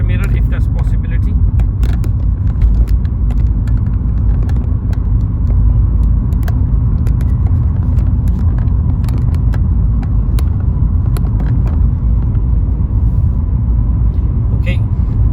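A car drives along a road on a Slough driving test route, a steady close low rumble of engine and tyres throughout, with an instructor talking over it.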